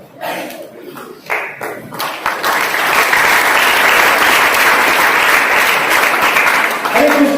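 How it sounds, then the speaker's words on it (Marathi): Seminar audience breaking into applause, starting with a few scattered claps and taps, then swelling into loud, sustained, dense clapping that holds steady to the end. "सरांनी टाळी वाजवायला लावली."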